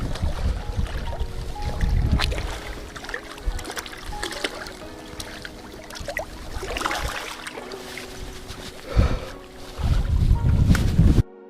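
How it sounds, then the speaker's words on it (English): Steady wind buffeting outdoors while bass fishing from a boat in windy fall conditions, a broad rushing noise with gusts swelling louder near the end, water lapping faintly beneath, no speech. "You guys can barely hear me because of the wind"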